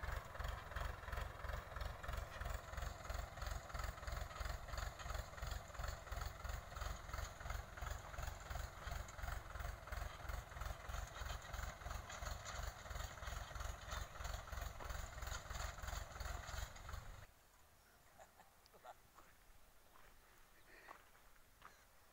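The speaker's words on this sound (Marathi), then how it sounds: "त्यांनी स्वतः ट्रॅक्टर चालवलं आहे।" A tractor engine idles in a field where onion-planting beds are being formed. Its rhythmic chugging is fast and even and fairly close for about seventeen seconds, then it cuts out and leaves faint background noise.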